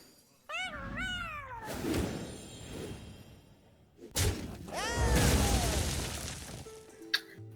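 Hearthstone's Alley Cat card meows twice, each a rising and falling cat cry, with crashing, bursting game effects between and after them.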